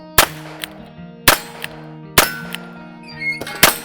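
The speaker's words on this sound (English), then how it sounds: "Let's see if it shoots, because I have no idea. This will be the first shots." First shots from a Ruger Wrangler .22 revolver: four loud, sharp cracks spaced about a second apart, each with a ringing tail, plus a few fainter knocks in between.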